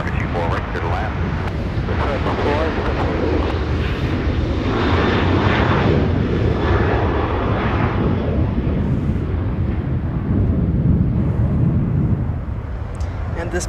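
A Boeing 777-300 jet lands at Los Angeles International Airport after an eleven-hour flight, its engines roaring loud and steady for several seconds with broadband rumble, while a voice talks over it.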